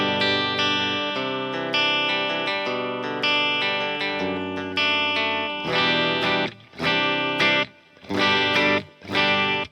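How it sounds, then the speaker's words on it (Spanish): A distorted electric guitar played through a Line 6 multi-effects pedal with layered delay times and gain stages rings out loud and sustained, running continuously at first, then breaking into chopped chord bursts with short silences between them. "Entonces mi guitarra suena así."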